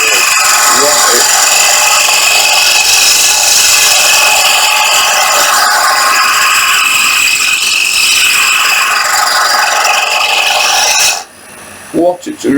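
A roughing gouge cuts wood on a lathe, giving a loud, continuous rasping shear with waves of rising and falling intensity, then it stops abruptly near the end.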